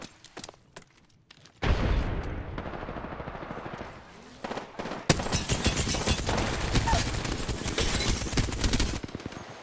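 Video game gunfire from a PC shooter match: a few scattered shots, then long, loud, dense bursts of automatic fire that continue almost without a break.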